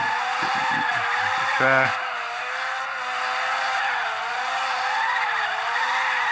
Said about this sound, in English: Just drifting out like Initial D pretty much.